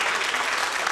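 Steady, dense audience applause at a school quiz semifinal in Riga, a continuous wash of many hands clapping at even loudness throughout.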